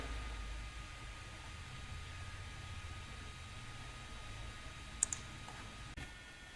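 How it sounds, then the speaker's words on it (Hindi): A computer mouse clicks while a finance tips website is being browsed: two faint, sharp clicks near the end over a steady background hiss. "यहाँ पे हम क्लिक करते हैं इसके ऊपर"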